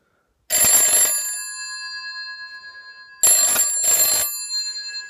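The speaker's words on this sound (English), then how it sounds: "These are GPO ringers." A GPO telephone's electromechanical bell ringer gives one loud metallic ring burst, then after a pause a double ring-ring, close and alone.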